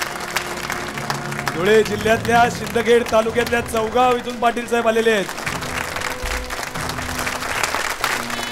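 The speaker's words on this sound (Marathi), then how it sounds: "एकदा जोरदार टाळ्या अशा चालू राहू दे" Applause from an audience at an award ceremony greets a prize recipient coming onstage, steady clapping running throughout while someone speaks over it and a musical tone plays partway through.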